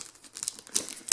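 Blade cutting into thin plastic wrapping on a trail camera box, producing brief crinkling and tearing rustles close up, with no voices.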